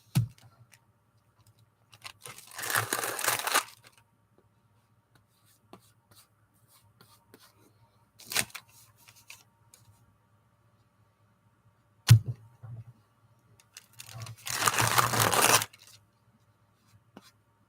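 Washi tape being torn and peeled from a roll, heard as a few separate raspy ripping bursts of a second or two each, spaced apart by quiet stretches with faint clicks, close and moderately loud.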